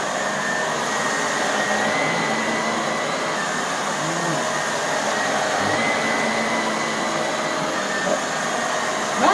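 Shark or Dirt Devil vacuum cleaner running continuously with a steady, loud motor whine and airy rush, held nearly constant throughout with slight pitch shifts.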